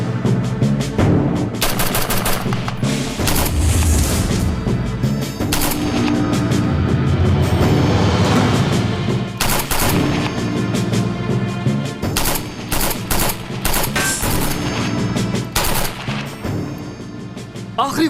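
Automatic gunfire in a Turkish drama scene: repeated loud bursts of machine-gun fire with sharp single shots and booms, broken by brief pauses.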